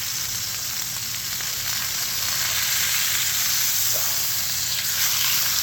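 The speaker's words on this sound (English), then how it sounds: "Just gonna give it a nice little sear on the other side and the bottom side" Chuck roast sears in a hot pan with a steady, even sizzle and crackle of frying that holds constant throughout, close and fairly loud, with no voices over it.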